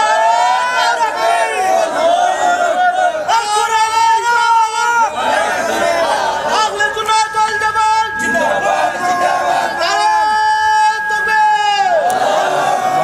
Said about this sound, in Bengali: দুহাত উঁচু করে স্লোগান দিয়ে আল্লাহকে দেখান